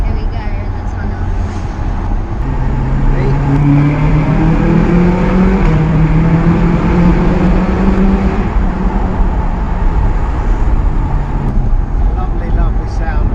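Ferrari California with a V8 engine driving through a tunnel, a loud, steady engine drone with reverberant tunnel roar held throughout, with voices talking over it.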